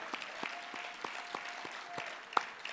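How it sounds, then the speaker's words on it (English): Scattered, fairly faint applause for volunteers at a morning breakfast gathering, with distinct individual claps spaced through a soft crowd background. "Let's give them a round of applause."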